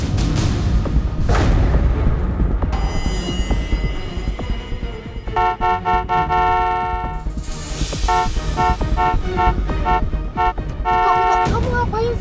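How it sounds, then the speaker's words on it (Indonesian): A car horn honks in short repeated blasts and bursts inside a moving car amid traffic, loud and close, over a rumbling engine, with voices arguing. "Udah jangan klakson, nanti orang depan ngira kamu ngapa-ngapain."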